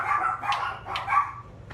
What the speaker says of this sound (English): my dogs are barking in the background